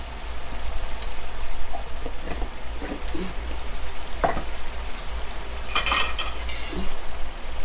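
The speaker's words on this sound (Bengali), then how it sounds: "পাঁচ ছয় মিনিট আপনারা এইভাবে মশলাগুলো লাড়াচাড়া দেবেন" Spices being stirred in a pan while making snakehead fish dopiaza, with chili powder added, give a steady scraping, rustling stir of utensil against metal at close range over a constant low hum, with a few sharper clinks.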